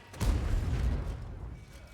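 A single deep boom of a tank cannon firing in a video game, followed by a low rumbling tail that fades over a second or so.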